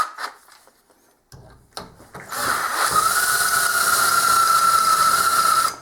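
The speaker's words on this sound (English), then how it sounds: "Looks like I got to work on sharpening some drill bits." Drill bits are sharpened on a grinder: a loud, steady high-pitched grinding whine, close up, starting after a few brief scraping bursts and running continuously to the end.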